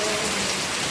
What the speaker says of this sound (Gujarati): વરસાદ ભક્કમ પડે, આ કોઈ દેખાતું નહીં.